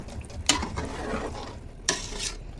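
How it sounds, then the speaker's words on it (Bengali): Hot water poured into a pot of sizzling chicken biryani, a loud hiss and bubbling with sharp scraping stir sounds and a couple of metal clanks, close and alone. "গরম পানি দিয়েছি"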